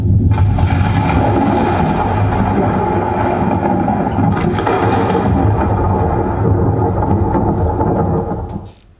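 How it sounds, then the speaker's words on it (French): Thunder from an approaching storm rolls in a loud, continuous rumble with a rain-like hiss, staged for a teen theatre play, holding steady before fading away at the end. "regarde par la fenêtre, un orage arrive"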